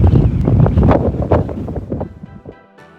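Strong gale-force wind buffets the microphone on the open deck of the classic cruise ship Fred Olsen Bolette, a loud, gusty roar that eases off toward the end.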